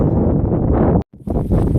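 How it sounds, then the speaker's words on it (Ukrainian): Strong wind buffeting the microphone in a loud, continuous low roar, briefly cutting out for a moment before gusting back. "ну вітер такий, що просто капець"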